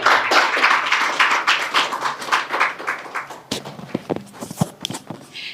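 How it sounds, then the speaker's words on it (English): Scattered clapping from the audience at a launch event for an apprenticeship program, starting as a brief burst and thinning into a few sparse, separate claps near the end. "Yes, let's clap for her."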